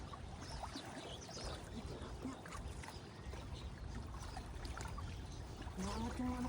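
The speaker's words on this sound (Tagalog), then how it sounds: "Ang lakas ng agos." A strong river current rushes steadily, a constant watery roar with trickling detail, while faint voices speak at a distance.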